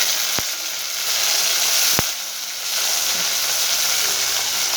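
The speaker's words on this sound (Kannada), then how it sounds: "ಈ ಥರ ಮಿಕ್ಸ್ ಮಾಡಿದರೆ ಒಂದು 2 ನಿಮಿಷ ಟೊಮೊಟೊ ಎಲ್ಲ ಫ್ರೈ ಆಗಲಿ ಎಣ್ಣೆಲಿ" Onions and tomatoes fry in oil with a steady, close broadband sizzle and hiss. Two sharp clicks cut through it near the start, and the sizzle dips briefly in the middle before continuing.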